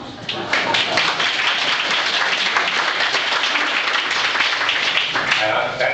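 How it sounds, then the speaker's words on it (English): Sustained, loud applause from a debate audience at a Republican NC-11 congressional debate in Macon County, with the clapping filling the whole stretch at an even level. "That clapping should be for me because I'm elected."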